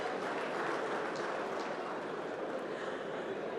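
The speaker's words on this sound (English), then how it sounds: "I'd like us to please give the Honorable Minister a round of applause." Faint, diffuse applause from an audience at a political summit in Abuja honoring a minister, a steady wash of distant clapping.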